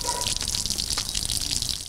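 Water gushes steadily from a street water vending machine in central Kherson, a continuous splashing stream with faint background noise.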